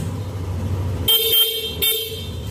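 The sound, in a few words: horn of a Yamaha Aerox 2024 scooter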